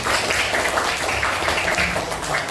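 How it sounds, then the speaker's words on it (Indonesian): Classroom applause for a student group in an Indonesian science lesson, a steady, moderately loud wash of many hands clapping throughout. "tepuk tangan untuk kelompok auditori"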